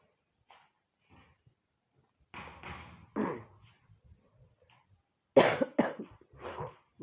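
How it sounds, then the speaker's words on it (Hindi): A woman with a bad cold coughing in a home kitchen while making radish parathas, several separate short coughing bursts and throat sounds with quiet pauses between. "खांसी भी आ रही है"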